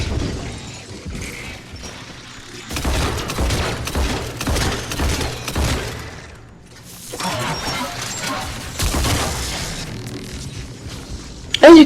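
Gunfire in the video game Mass Effect 3, from an M27 Scimitar shotgun, dense bursts of loud rapid shots in two long stretches separated by a brief lull, with crashing impacts mixed in.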